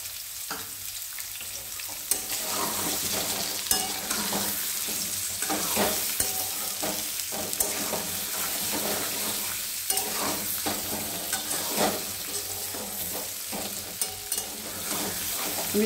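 Small boiled new potatoes fry with turmeric in a pan under a loud, dense sizzle, and a spoon stirs and taps against the pan in irregular clacks throughout.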